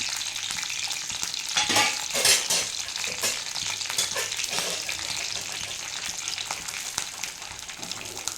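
Whole spices — cinnamon, cardamom, cloves, mace and fennel — sizzle and crackle steadily in hot oil for chicken biryani, with occasional louder pops and stirring scrapes, close and continuous with no talking.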